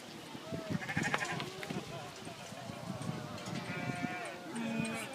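Sheep bleat intermittently amid shuffling and clattering hooves during shearing at a village day, with a person talking over the animal noises nearby.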